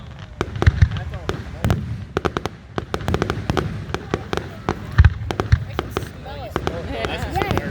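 Fireworks burst at an outdoor fireworks and drone show in Trenton, Ontario, a rapid string of sharp cracks and deeper booms at varying distances, with people talking and reacting nearby.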